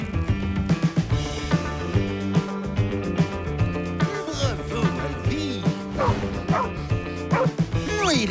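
A cartoon dog barks and yips repeatedly in bright, excited bursts over a busy music bed, with crashes and whacks mixed in.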